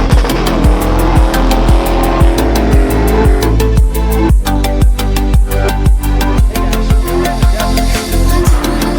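A 4x4 Toyota Land Cruiser or Nissan Patrol churns over desert sand dunes, its engine roaring loud and close with a steady throbbing drive, punctuated by repeated rhythmic jolts and bursts as the vehicle climbs and slides.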